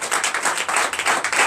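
A church congregation claps during a Sunday worship service, a dense and fairly loud patter of many hands with a rhythmic pulse running through the whole brief stretch.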